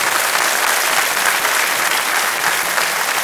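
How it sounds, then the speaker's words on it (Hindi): Dense, steady applause from a large studio audience on Kaun Banega Crorepati, loud and continuous throughout with no voices standing out. "तालियों के साथ इनका अभिनंदन।"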